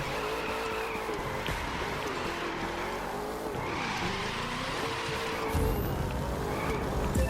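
Ford Mustang in The Crew 2, Motor City, revving steadily with tire squeal and skidding throughout, a loud continuous engine drone with sliding screeches layered on top.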